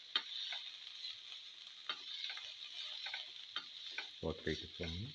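A tomato and cumin mixture is sautéed and stirred in a pan, giving a faint sizzle with scattered soft scraping clicks from the spoon, growing a little busier toward the end.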